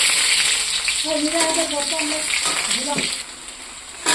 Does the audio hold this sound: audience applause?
no